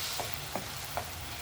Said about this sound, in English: And just keep stirring it as we let it continue boiling.